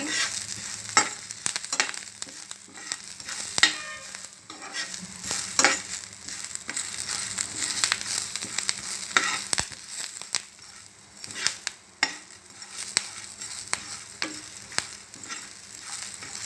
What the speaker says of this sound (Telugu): అలాగే జీలకర్ర వేసుకుందాం ఇవన్నీ దోరగా వేయించుకోవాలండి